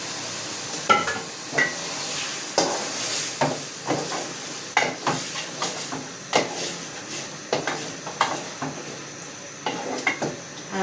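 Marinated meat frying in oil in a home kitchen pan, a steady sizzling hiss broken by repeated scraping stirs and utensil clinks against the pot, close and fairly loud with no talking.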